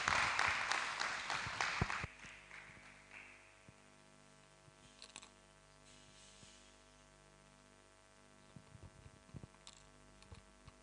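Short burst of audience clapping at an international hall event, loud for about two seconds and then stopping abruptly, followed by quiet room tone with faint scattered clicks.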